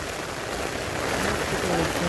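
Steady rain falls at Animal Kingdom theme park in the evening, a dense, even hiss of drops on surfaces filling the short stretch close by, with no voices standing out.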